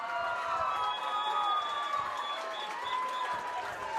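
Softball fans at a 5A state championship game roar steadily with applause, cheering and high whistles, a dense sustained crowd din lasting throughout with no clear pauses.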